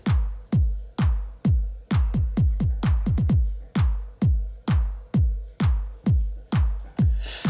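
A punchy drum machine kick thumps steadily with deep low-end decay, briefly doubling into faster hits midway before settling back into an even four-on-the-floor pulse.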